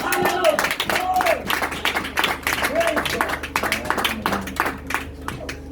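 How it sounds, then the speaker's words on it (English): A church congregation in Takoradi, Ghana, clapping their hands in worship, with loose rhythmic claps from many people mixed with voices and shouts throughout. "Give a hand clap to Jesus"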